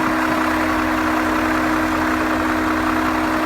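A warm 2000 BMW M5 engine idles steadily and loudly up close, a constant low hum with a strong tonal drone and no other sounds.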